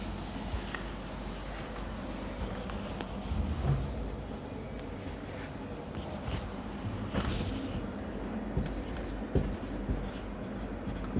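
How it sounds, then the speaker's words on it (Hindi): Steady scratchy strokes of a teacher writing maths questions on a classroom board continue in faint, irregular bursts over low room noise. "तब तक मैं वहाँ पे क्वेश्चन लिख देता हूँ"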